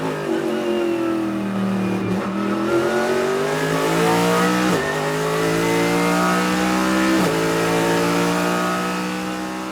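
A racing car accelerates hard through its gears, the engine note climbing steadily and dropping at each upshift; a loud, continuous close-up roar with no talking.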